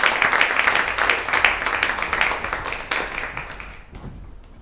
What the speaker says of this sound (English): a round of applause for Geoffrey